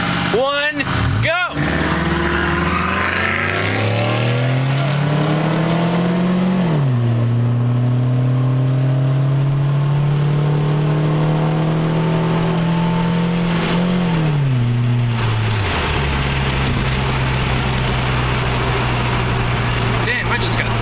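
A 2004 Nissan Sentra 1.8S racing a 2005 Ford Mustang GT from a standing start, the engine loud and close as it revs high through several rising gear pulls, with brief dips at each shift and a shouting voice over it.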